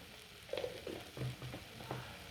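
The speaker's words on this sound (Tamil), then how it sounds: "ஒரு ரெண்டு நிமிஷம் இடையில வதக்கி விடுவோம்" Seeded tomatoes sautéing in a pan with a little turmeric, a low, steady sizzle broken by a few soft scraping stirs, close and fairly quiet.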